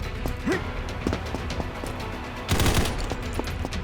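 Rapid gunfire in the shooter game Combat Master, a steady series of distinct shots at a quick rhythm with a denser burst toward the end, a player speaking faintly beneath.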